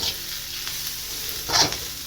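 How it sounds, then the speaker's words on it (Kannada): Onion, curry leaves and cumin frying in oil for dalcha, a soft continuous sizzle with a couple of brief stirring scrapes, fairly quiet and close. "ಕಡೆ ಜೀರಿಗೆ ಹುರ್ಕೊಂಡು ಸ್ವಲ್ಪ ಈ ಥರ ಫ್ರೈ ಮಾಡಿ"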